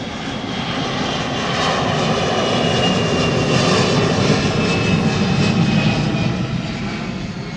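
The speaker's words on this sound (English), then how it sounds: "the people on this plane going over my head" A passenger airplane passes overhead at an outdoor city gathering, a loud, continuous engine roar that swells and holds steady throughout with no voices over it.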